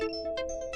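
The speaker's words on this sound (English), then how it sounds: "Notification." A short electronic notification alert plays a quick series of bright, clean synthetic tones, close and clear with nothing else over it.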